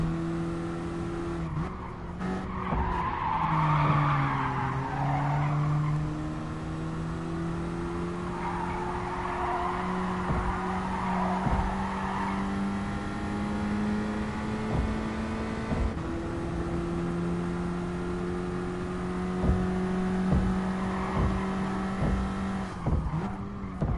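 A Nissan Skyline GT-R in the GT Sport video game races with a sustained engine drone that shifts pitch as it accelerates and brakes, with bursts of tire squeal from skidding, steady and loud throughout.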